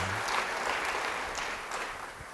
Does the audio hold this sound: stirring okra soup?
no